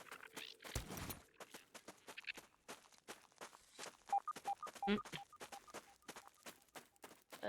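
A laboratory alert in the video game Grounded rings as short, repeated tonal beeps midway through, mixed with a steady patter of quick in-game footsteps and clicks.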